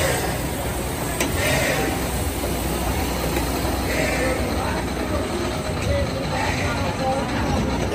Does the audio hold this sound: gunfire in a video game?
no